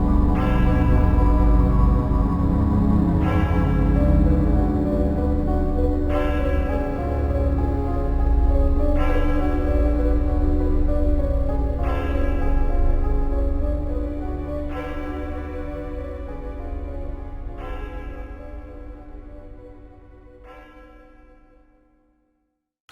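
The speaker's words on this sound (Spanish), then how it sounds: "las campanas de la ciudad doblaban a lo lejos" Slow, heavy city church bell strokes toll at steady intervals, about seven in all, each ringing out and overlapping the last before fading away at the end.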